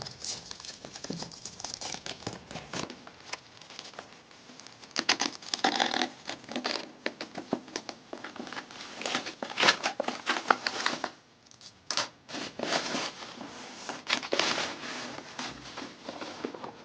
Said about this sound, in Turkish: Hemen şu kenardan doğru poşetini keserek başlıyorum.